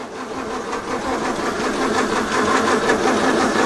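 A 1932 Morris Minor engine cranking and trying to start, a steady rhythmic churning of the starter turning the engine over for several seconds, fairly close, with no voices.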